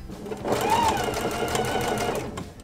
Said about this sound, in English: I line up the edge of the 1/4 inch foot with the line so that I'm stitching a 1/4 inch away from the line.